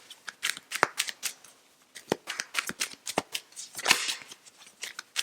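Tarot cards being shuffled by hand at close range, quick irregular bursts of riffling and sharp snaps with brief pauses between handfuls.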